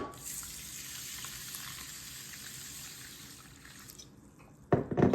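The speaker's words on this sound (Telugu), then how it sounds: "శుభ్రంగా 2 సార్లు కడిగి నానబెట్టుకోవాలి." Ragi and brown rice are rinsed in water in a kitchen, giving a steady tap-like rush and splashing that runs for several seconds before ending in a few louder sloshes and clatters. No one speaks.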